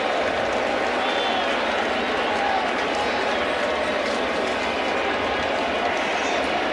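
Baseball stadium crowd at a Yankees–Red Sox game in the bottom of the seventh, cheering and applauding in a dense, steady roar that fills the whole stretch without breaks.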